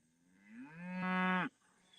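A cow in a pasture gives a single long moo that swells in loudness over about a second and then cuts off sharply, close by and clear against a quiet background.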